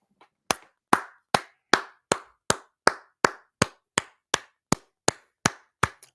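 About fifteen sharp hand claps in a steady, evenly spaced rhythm, close and crisp against silence.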